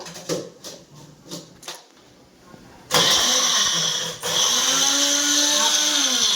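A mixer grinder grinding flowers with a little water into a paste starts up with a loud, steady whirring roar after a few light knocks. It dips briefly, then keeps grinding at full volume.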